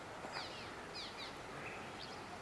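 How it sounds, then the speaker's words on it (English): Small sparrows, probably nesting under bridges, chirp in the early morning in southeast Arizona: a few short high calls scattered over a constant broadband roar of background noise, faint and somewhat distant. "there are so many little sparrows, probably have their nest up in the bridges."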